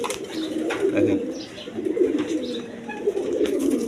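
Raj Golla pigeons, a pair of quality birds held for sale, coo in soft rolling phrases close by, with a few faint chirps and background noise mixed in.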